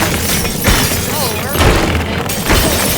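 Loud, continuous crashing and crumbling destruction in the voxel video game Teardown, with shattering debris and low rumbling bursts filling the whole stretch.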